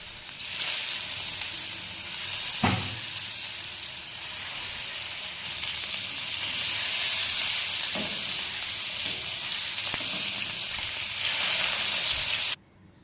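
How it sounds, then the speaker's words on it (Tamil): Fish sizzles steadily in hot oil, a constant crackling hiss with a few soft clinks, continuing until it cuts off abruptly at the end. "இதே எண்ணெயிலேயே மீதம் இருக்கிற மீனையும் போட்டு பொரிச்சுக்கலாம்."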